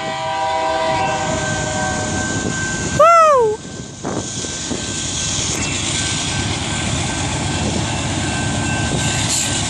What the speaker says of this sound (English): Here comes the westbound BNSF manifest.